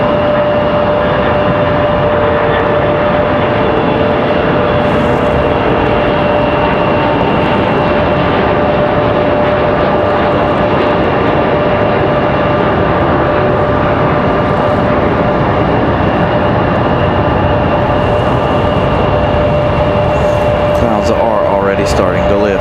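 Jet airliner, a JetBlue Airbus A220, taking off at Raleigh-Durham airport: a loud, steady roar runs the whole stretch, with a sustained tonal whine, and someone talks over it now and then.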